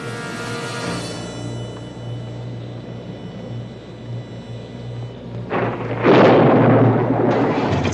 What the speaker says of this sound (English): It's only a storm.